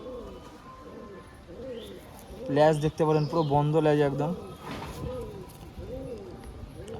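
Madras Giribaz pigeons coo in low, rolling bursts close by, with one louder stretch of cooing in the middle while someone talks over them.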